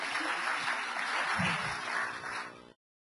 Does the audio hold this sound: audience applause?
yes